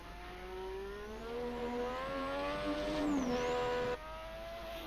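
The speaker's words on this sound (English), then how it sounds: "can actually hear like the blipping coming down" A 1988 Osella Formula One car engine screams in Assetto Corsa at Bahrain, holding a high pitch and then dropping through blipped downshifts with rising revs between gears, loud and close.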